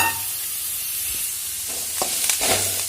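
Grated coconut being stirred in hot oil in a pan, with a steady close sizzle and hiss and occasional soft scraping stirs. No one speaks.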